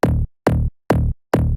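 Offbeat Nexus bass layered with a distorted, sidechained Melbourne bounce top bass, four loud, even, clipped stabs in a bouncing pattern.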